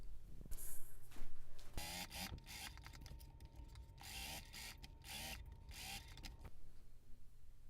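A sewing machine stitches down the back pocket on a Know Me ME2055 garment, running in short mechanical bursts with clicks and pauses between them, close and fairly quiet.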